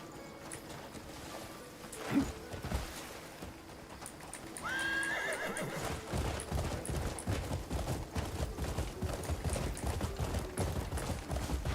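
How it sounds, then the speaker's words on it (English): In the video game Crimson Desert, a horse gives a sharp neigh and then a rising whinny, followed by a steady run of clip-clopping hooves that carries on to the end, with no talking. "The horse wanted to do a dramatic entrance or something."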